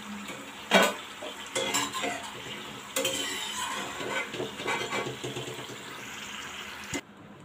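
French fries frying in hot oil in a home kitchen, a steady crackling sizzle with occasional louder stirring clatters of a utensil against the pan, fairly close and alone.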